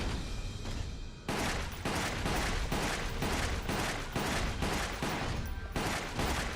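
Dense, continuous gunfire in Resident Evil The Umbrella Chronicles, loud rapid shots pounding in close succession with heavy booming low end, filling the whole stretch without voices.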